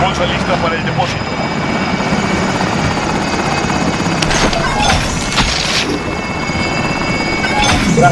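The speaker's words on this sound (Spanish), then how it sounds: "Helicóptero en posición." Helicopter rotor noise in Call of Duty Warzone, a loud sustained whirring drone with a few sharp knocks, while people talk over it.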